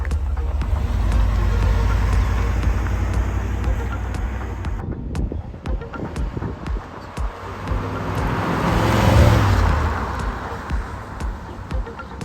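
A Guanci SSJ prototype sports car engine rumbles steadily with a deep, throaty low end, briefly easing off then building again amid road and wind noise.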